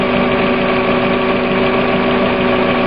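Engine of a 1997 Subaru Outback with about 50,000 miles, unmodified, running steadily at idle with a constant hum and low vibration, close and loud with no talk.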